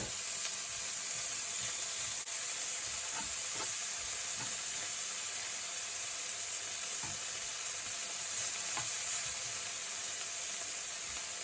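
Prawns fry in a hot pan, making a constant, even hiss of sizzling oil with a few faint soft taps as they are turned.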